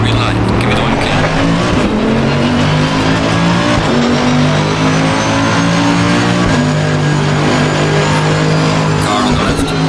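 A race car at Monza in Assetto Corsa Competizione roars loud and continuous, the engine pitch climbing through gears with brief shifts, while a voice talks over it.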